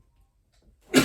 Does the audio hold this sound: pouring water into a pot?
no